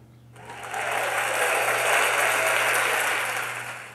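A canned applause sound effect plays from a Tascam Portacapture X8 recorder, a smooth wash of clapping that swells in after a brief quiet start, holds steady, then gently tapers, with a low hum underneath.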